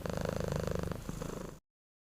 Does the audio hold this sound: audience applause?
no